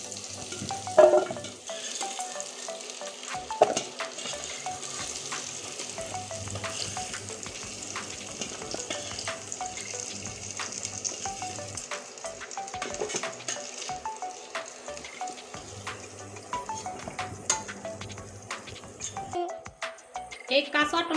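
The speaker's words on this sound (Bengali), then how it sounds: "টমেটোগুলো এখন ভেজে নিচ্ছি" Tomatoes fry in a pan with potatoes for a fish recipe, a continuous moderate sizzle with occasional utensil clinks, while someone talks over it.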